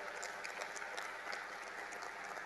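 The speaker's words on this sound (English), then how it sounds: "Let's give a round of applause." Audience applause at the India-Japan Annual Summit 2017, a steady, fairly faint wash of many hands clapping continuously with no voices.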